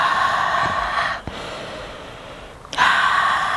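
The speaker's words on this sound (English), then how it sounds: "Oh, breathe in." A single deep inhalation through the nose during a breathing exercise for stress relief, close and fairly loud, followed by a pause and a second breath starting near the end.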